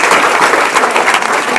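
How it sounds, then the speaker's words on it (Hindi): Loud, dense applause for teachers at a school gathering fills the whole stretch, a steady wash of many hands clapping without pause. "तो इनके लिए एक जोरदार ताली हो जाए।"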